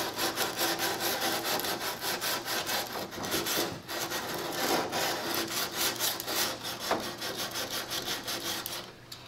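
150 grit sandpaper rubbed along the outside edge of an F-16 model, a continuous close rasping scrape with quick back-and-forth strokes and no talk.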